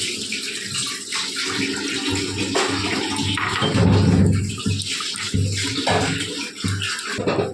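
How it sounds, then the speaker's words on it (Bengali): Water is poured into a pan of shahi egg curry, a continuous rushing, splashing pour that swells in the middle and runs steadily without a break, with no talking. "এখন এর মধ্যে আমরা জল দিয়ে দেবো।"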